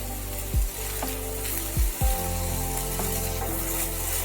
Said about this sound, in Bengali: সমস্ত সবজি ভাজা ভাজা হয়ে গেছে